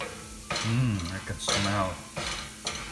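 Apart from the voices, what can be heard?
spices with turmeric frying in a pan on high heat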